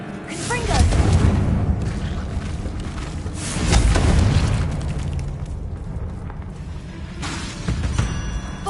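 A Confringo fire spell from Hogwarts Legacy bursts in booming, rumbling explosions, with loud blasts near one and four seconds over a steady crackling roar, a sustained low fiery rumble throughout.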